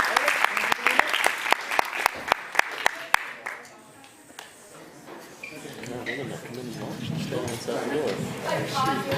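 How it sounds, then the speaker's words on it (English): Audience applause for a yo-yo team at a school show, sustained clapping from a crowd that fades after about four seconds into murmuring chatter and scattered voices. "So big round of applause for them"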